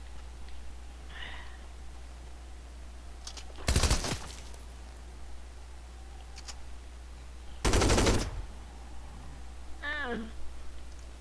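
Two loud bursts of test gunfire ring out in the Fortnite video game, each a short rapid volley several seconds apart over steady background hum, with brief faint sounds between.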